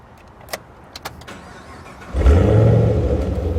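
Supercharged 2013 Chevrolet Camaro ZL1 V8 turns over with a few faint clicks, then fires into a loud, deep rumbling idle, close by and alone.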